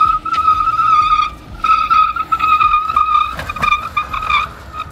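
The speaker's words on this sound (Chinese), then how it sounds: "先试一下这个纯电 MPV 的加速" A 2024 Denza D9 all-electric MPV on a test drive gives off a steady high electric-motor whine with tire noise as it accelerates, heard loud from inside the car, with no talking.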